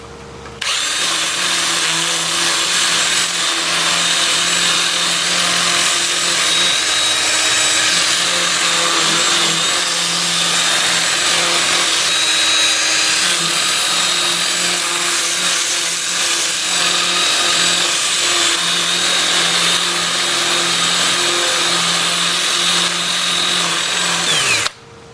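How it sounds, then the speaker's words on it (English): A 2-inch sanding disc, working from 80 grit up to 400, runs against a soft black locust bowl on a lathe turning in reverse at 350 RPM, giving a loud, steady, unbroken whir close by. "I'll switch to my 2-inch disc starting at 80 grit and working up through 400."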